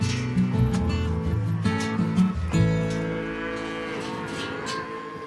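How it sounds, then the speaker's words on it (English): Cattle on a large ranch that also runs bison, a loud close moo rising and falling, followed by further lowing from several animals, no talking. "Running the cattle and bison on a ranch of this size is a big responsibility for Jace"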